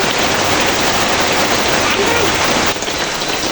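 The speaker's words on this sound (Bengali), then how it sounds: "আমাদের রাজবাড়িতে ধুম বৃষ্টি হইতেছে" Heavy rain pours down steadily in Rajbari, a loud, dense hiss that holds without letup, easing only slightly near the end.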